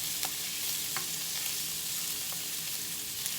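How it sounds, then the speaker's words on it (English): Onion and ground deer meat saute in a pan over medium heat for spaghetti sauce, a continuous hissing sizzle with a few faint taps from the spoon, no voices. "Put my onion in. Let this saute."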